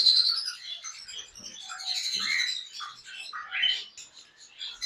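Male blue cinnamon conures chirp and squawk in a busy, overlapping stream of bright, shrill calls, close and fairly loud throughout, with no talking.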